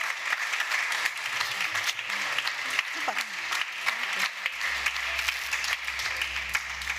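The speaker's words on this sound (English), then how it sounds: "I would say one big round of applause." Applause from an audience at the close of a panel discussion, a broad, steady patter of many hands clapping at moderate distance, with a low hum entering toward the end.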